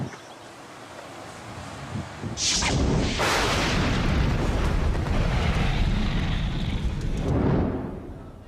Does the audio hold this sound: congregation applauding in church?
no